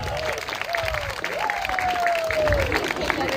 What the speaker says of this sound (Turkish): Alkışlar Rizda Hanım'a, alkışlar